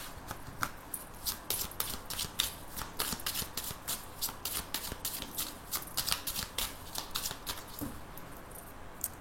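Close, rapid riffle shuffling of a 32-card deck for a card reading, crisp repeated flutters and slaps in a steady rhythm with no talking.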